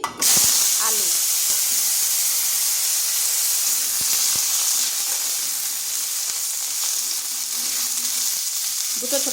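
Cubed potatoes with salt and turmeric drop into hot oil and set off a loud, steady sizzle close by that hisses continuously and barely fades.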